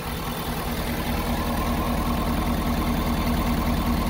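A 2017 Ford F-350 Super Duty King Ranch dually FX4 4x4 with a 6.7-liter Powerstroke turbodiesel idles smoothly, giving a steady, even, close-up drone with a low throb that stays constant throughout.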